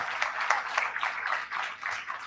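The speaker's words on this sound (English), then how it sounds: "let's clap for her, please" Audience applause at a marketing conclave and roundtable after a panel speaker, a brief steady patter of clapping from a modest crowd, moderately loud and without voices.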